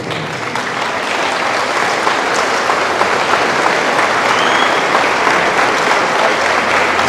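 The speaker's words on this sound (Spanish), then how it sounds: "estos aplausos para ti" A crowd at a Catholic preaching event applauds steadily and loudly, a dense sustained patter of many hands clapping without pause.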